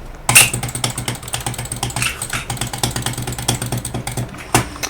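Manual mouse clicking during a Roblox Bridge Duel match, without an auto clicker, heard as a close, uneven run of sharp clicks with a few louder taps and no speech.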